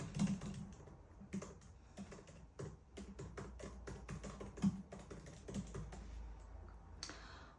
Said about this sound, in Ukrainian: От ми там набрали якийсь наш текст.